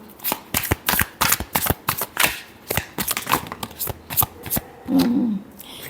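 Tarot cards are shuffled in a quick run of crisp riffles and slaps, about a dozen sharp flutters close to the microphone, closing with a softer rustle as the deck settles.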